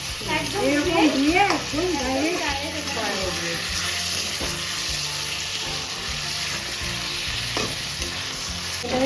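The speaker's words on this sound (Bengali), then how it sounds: "ভালো করে ভেজে নিলাম" Unmarinated chicken fries in a pan for coconut chicken pulao, sizzling steadily with stirring sounds, and a voice talks over part of it.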